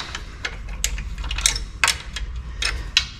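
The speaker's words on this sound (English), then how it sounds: "Okay, we need to undo the pinch bolt." A socket ratchet works on the swing arm pinch bolt of a Honda CBR900RR, making a handful of close, crisp metallic clicks spaced unevenly over a low background hum.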